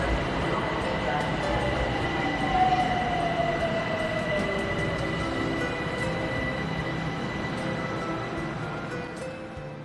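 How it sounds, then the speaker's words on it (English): A Tehran metro train rides along with a steady rumbling roar of wheels on track, a faint whine sliding downward early on, and a continuous moderate level throughout, with no voices standing out. "which I travelled to via metro"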